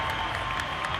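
Crowd cheering and clapping at the HYROX Vienna Major fitness race, a steady roar of many spectators heard at a distance, brief and continuous.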